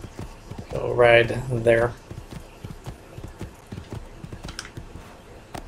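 Horse hooves clip-clop steadily in the Assassin's Creed II video game, an even walking rhythm throughout, with someone speaking briefly over the start.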